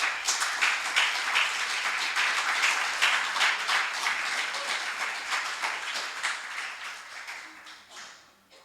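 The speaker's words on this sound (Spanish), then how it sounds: "Dale un aplauso al Señor, hermanos." A church congregation at a Spanish-language service claps in a sustained burst of applause, loud and crowded with sharp individual claps, fading toward the end without speech.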